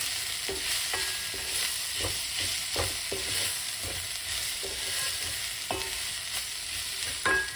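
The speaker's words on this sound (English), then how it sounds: "Just want to fry them up." Eggplant frying in a pan for curry with a constant sizzle, punctuated by regular light taps and scrapes of a utensil stirring.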